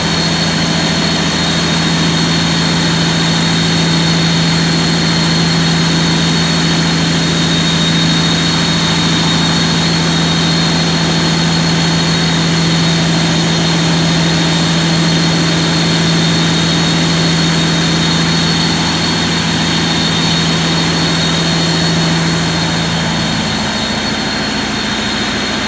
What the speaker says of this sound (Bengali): এটা লঞ্চের ইঞ্জিন।